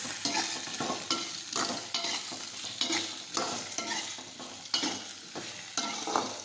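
Chopped okra sizzles in a frying pan as a spoon stirs it in steady, rhythmic scraping strokes, close and clear over the constant frying hiss.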